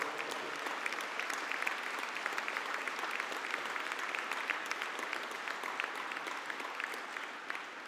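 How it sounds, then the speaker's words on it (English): Graduates and guests at a university conferring ceremony give a collective round of applause, a steady, fairly soft patter of many hands clapping continuously in a large hall. "can we please have a collective round of applause for the Bachelor of Arts Honours in Law"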